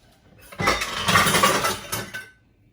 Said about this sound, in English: That was a bowl falling over in the sink.